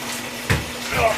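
Dirty aquarium water poured back into a tank holding a large red belly pacu, a short close splash and gurgle with a second burst of pouring just after.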